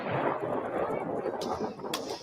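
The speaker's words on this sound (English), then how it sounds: "Day cloud fireworks or something like that." Daytime coloured-powder fireworks burst outdoors with a dense, rumbling boom and crackle that sustains throughout, joined by a couple of sharper pops, while voices talk over it.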